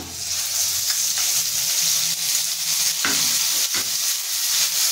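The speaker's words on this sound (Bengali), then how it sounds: "এটা আমি লো ফ্লেমে সুন্দর করে কষাতে থাকবো।" Blended spice paste with turmeric and Kashmiri chilli powder frying on a low flame for a snake gourd dish, giving a steady close sizzle with a few scrapes of a stirring spoon.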